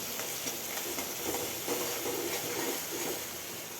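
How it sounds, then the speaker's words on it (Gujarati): Sprouted moong with chilli powder, turmeric and spices is stirred in a pan, a soft steady sizzle with light scraping strokes repeating close by throughout. "બધાને સારી રીતે મિક્સ કરી લઈશું"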